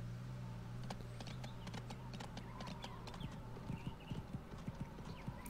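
A black horse gallops across green plains in the video game Go Vacation, a quick rhythmic patter of hoofbeats growing sharper and more distinct toward the end, with faint background game sound underneath.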